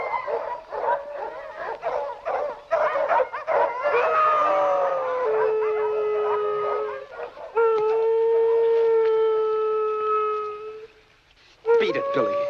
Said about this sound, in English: Don't know what's bellyaching those dogs.